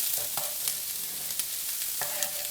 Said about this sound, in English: So now we're just going to saute the onions.